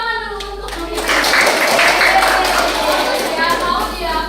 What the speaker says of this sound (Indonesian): Tepuk tangan dulu untuk Miss.